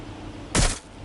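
A single loud burst of gunfire in the Watch Dogs: Legion video game, a short sharp blast lasting about a quarter second over a steady background hum.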